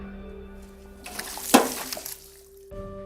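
A soaking wet sheepskin is squeezed and worked by hand for horror film Foley, giving a brief, gooey wet squelch and splatter in the middle, close and fairly quiet over a faint steady hum.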